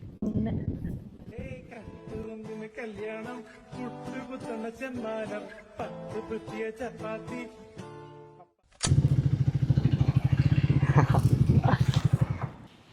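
A Triumph Speed 400 motorcycle engine starts and runs with a steady, throbbing rumble after a stretch of music with speech over it.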